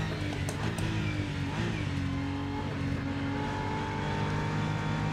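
Muffled race car engine in the Rennsport sim racing game, a BMW M4 or Porsche 911 GT3 R, droning steadily with shifting revs and a dull, damped tone, constant and fairly loud with no talk.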